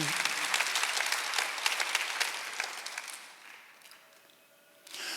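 A church congregation applauding during a Sunday worship service, a dense burst of clapping that fades away after about three seconds, leaving quieter room noise before a brief rise at the end.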